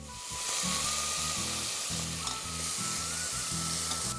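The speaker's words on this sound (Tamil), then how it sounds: "எதனால வந்து இந்த நெய்யில் வறுத்துக்கிறத?" Soaked, squeezed rice fries in ghee with a loud, steady sizzle. A spatula stirs it in a regular rhythm of low scraping strokes close to the pan.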